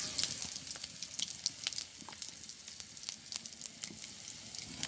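Radhuni seeds sizzling in hot oil in a pan before red amaranth greens go in, a close, lively crackle with rapid sharp pops scattered over a steady hiss.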